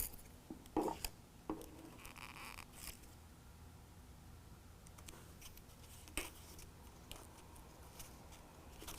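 Scissors snip through the bulkhead seal of a BAKFlip MX4 tonneau cover on a 2019 Chevy or GMC Sierra 1500, a few quiet, close cuts and rustles against a faint background.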